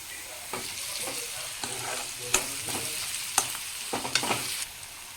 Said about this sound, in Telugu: పచ్చివాసన పోయేంత వరకు అల్లం పేస్ట్ ఫ్రై చేసుకున్నాక